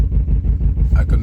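Low, loud rumbling idle of a 2010 BMW X5 E70 50i engine running with a malfunction and reduced power, a continuous throbbing drone with a brief voice near the end.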